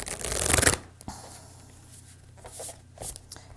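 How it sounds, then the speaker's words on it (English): Tarot cards being shuffled: a loud riffling burst near the start, then softer scattered card taps and slides, close and with no voices. "I'm gonna shuffle one more time."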